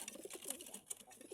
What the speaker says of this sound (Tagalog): Pinasok mga kalapatids.